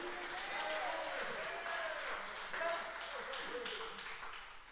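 Faint congregation applause glorifying Jesus at a Portuguese-language sermon, a soft, steady wash of clapping heard at a distance, with voices mixed underneath.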